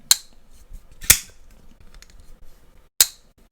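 Stonewashed Shirogorov F3 flipper pocketknife blade snapping open and shut, three sharp metallic clicks spaced unevenly with quiet handling noise between, close and crisp.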